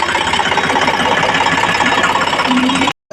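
A farm tractor's engine runs close by with a steady, loud chugging drone that barely changes, then cuts off sharply just before the end.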